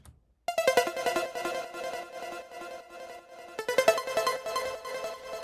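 A trance synth pluck built from a modified Serum preset plays a fast, bright repeated pattern of short notes, starting after a brief silence, pausing slightly, then resuming with a renewed burst; no voices.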